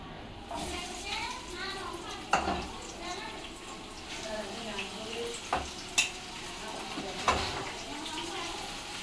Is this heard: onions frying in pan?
yes